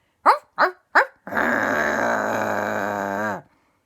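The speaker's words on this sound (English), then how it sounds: "But yet, the barking continued." A dog barks three times in quick succession, then lets out a long, rough, drawn-out growl lasting about two seconds, loud and close with no talking.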